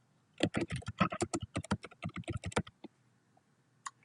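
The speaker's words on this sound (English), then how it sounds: "And I'll still have to type in the subject." Someone types on a computer keyboard in a quiet room, a close, quick burst of crisp key clicks for about two seconds, then a pause and one last tap.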